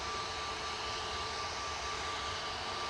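An EasyJet Airbus A320neo jet airliner departing Manchester Airport, bound for Verona, gives a steady, broad engine roar held at an even level throughout, with no voices over it.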